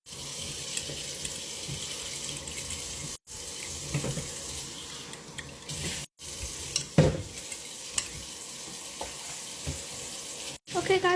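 Egg and tomato mixture being stirred in a bowl or pan, with steady scraping and mixing strokes over running tap water and light sizzling, broken by a few short gaps.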